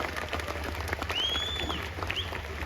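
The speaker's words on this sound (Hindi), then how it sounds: "अगर आप इसे एक्सेप्ट करते हैं तो जोरदार तालियां होनी चाहिए।" An audience at an outdoor community festival function gives scattered, uneven clapping against a busy background with a low hum and a thin whistle-like tone rising over it.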